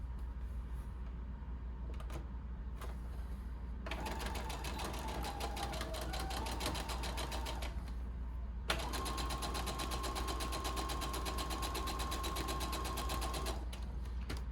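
Sewing machine stitching a fabric casing in fast, even bursts, with brief pauses between runs of rapid mechanical clatter, close and fairly quiet.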